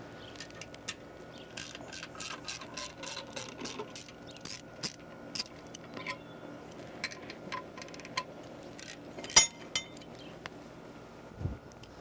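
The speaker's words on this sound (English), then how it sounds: "I need to access the panel on the side of the track frame. I'm going to do so using a 13 millimeter socket." A 13 mm socket removing the side panel on the track frame of a 3230DT tracked machine, giving a long run of faint, evenly spaced metallic ratchet clicks in a quiet space, with a few louder clinks later on.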